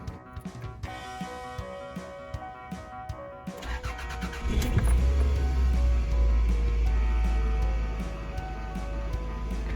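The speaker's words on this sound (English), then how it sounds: "let's turn on the engine and see what happens" A 2003 Toyota RAV4 with a P0171 fault, just fitted with new spark plugs, is started: a few seconds of clicking, then the engine catches and settles into a loud, steady close-up idle.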